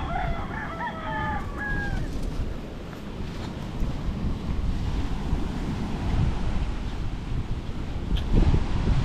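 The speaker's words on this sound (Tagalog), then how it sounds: "Gumrabi na naman ang hangin niya." Strong wind drives waves at sea, a dense, steady roar that fills the whole stretch; a rooster crows briefly near the start.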